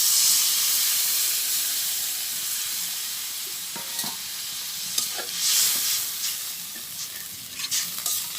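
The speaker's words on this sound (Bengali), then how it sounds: "আমার মশলা কষানো হয়ে গেছে, আমি এখন জল দিয়ে দেবো।" Water goes into a pan of fried spice paste for a village potato dish, producing a steady loud hiss and sizzle with occasional stirring scrapes and clinks.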